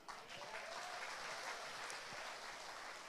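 Seminar audience applauding, a dense, steady crowd clapping heard from a distance without pause for a few seconds.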